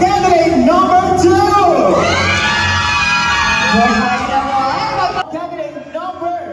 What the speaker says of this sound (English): let me hear the cheer of candidate number 2